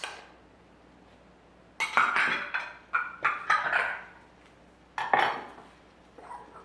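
Utensil clinks and scrapes against a bowl while apple fritter batter with lemon zest is mixed, coming in short bursts of clatter separated by quiet gaps, close and fairly loud.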